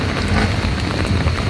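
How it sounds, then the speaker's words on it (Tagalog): Heavy rain pours down in Pasig City, a dense, steady hiss of drops drumming on surfaces close by with no break. "At kasalukuyang malakas po ang buhos ng ulan."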